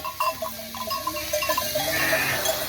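Black lamb bleating on a Turkish village farm, a series of close, wavering high bleats in quick succession over light background noise.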